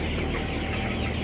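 Chickens clucking at a poultry farm with a tarpaulin spread on the floor, a dense continuous murmur of many birds close by with no speech.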